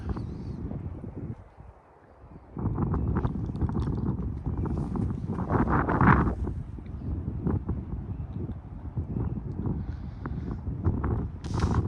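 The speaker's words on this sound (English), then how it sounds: "Because it is very windy." Steady wind buffets the microphone with low rumbling gusts, swelling and easing continuously with no voices.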